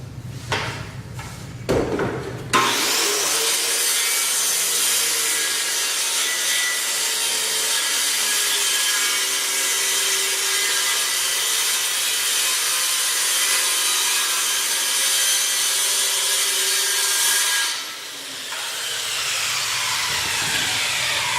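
After a few knocks, a hand saw rasps steadily and harshly through a hardboard door for about fifteen seconds, then fades to a quieter hiss.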